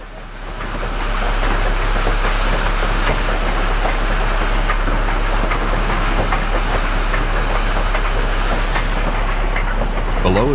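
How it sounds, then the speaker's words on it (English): A steam train slows as it rolls onto the Lobato trestle above Wolf Creek, making a loud, continuous rumbling roar with a deep, steady low drone and faint rhythmic clatter, unbroken by speech. "The train slows as it rolls onto the Lobato trestle."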